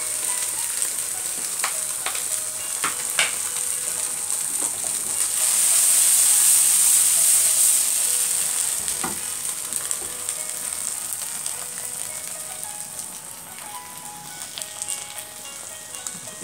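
Tofu and egg fry with spring onion in a pan, giving a loud, steady sizzle that swells briefly as ingredients are turned, with occasional clicks of a utensil against the pan.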